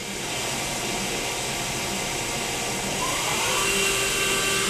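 A KIA SKT-15LMS CNC turning center spindle running at 1500 RPM gives a steady, close, loud machine whine and whir that holds even and rises slightly in the last second.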